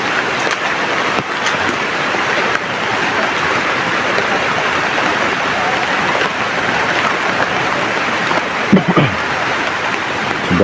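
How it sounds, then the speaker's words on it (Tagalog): Heavy rain pours down steadily and loudly throughout, a dense continuous hiss with no breaks, and a faint voice briefly audible near the end. "Sobrang lakas ng ulan tol."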